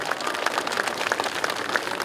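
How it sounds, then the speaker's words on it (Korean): Audience applause at an outdoor statue unveiling ceremony, a steady patter of many hands clapping together, fairly loud and continuous throughout. "여러분 다시 한번 큰 박수 부탁드리겠습니다"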